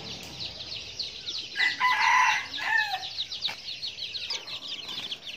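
A flock of around thirty three-week-old jungle fowl chicks peeps and chirps continuously nearby, with a louder crowing-like call rising in the middle.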